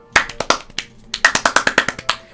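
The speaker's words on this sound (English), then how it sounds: "Take the sound of clapping." Irregular bursts of hand clapping by a single person, close and crisp, with a scattered opening run, a brief pause, then a quicker uneven volley and a final clap.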